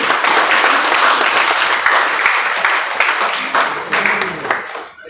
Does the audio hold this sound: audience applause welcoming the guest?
yes